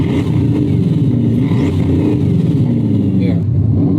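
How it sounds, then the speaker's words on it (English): A Bugatti with a quad-turbocharged engine pulls hard from inside the cabin, its engine and turbo whoosh rising in a loud, continuous surge for a few seconds. "So it's like turbo noise. It's 4 turbos."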